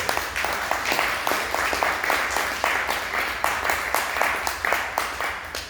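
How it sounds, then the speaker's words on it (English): A crowd applauds at the close of a two-day training session, steady dense clapping with some louder individual claps, continuing evenly throughout. "Everybody give yourselves a round of applause."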